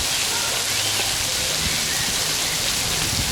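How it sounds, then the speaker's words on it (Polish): Loud, continuous rushing water fills the whole moment on a city street, a dense steady roar close by with no breaks. "szumi woda, jeżdżą samochody"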